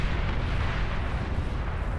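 Continuous rumbling barrage of explosions and artillery fire from a massive 50-versus-50 battle in the real-time strategy game Beyond All Reason, a dense, loud wall of booms with no talk.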